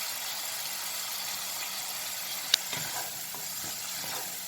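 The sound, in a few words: tomatoes and spices frying in a pan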